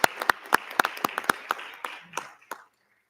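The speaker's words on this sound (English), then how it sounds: "Another round of applause for all of our students of the month." Scattered clapping from a small audience at a school board meeting honoring students of the month: a dozen or so sharp, close claps in an uneven rhythm that thin out and stop after about two and a half seconds.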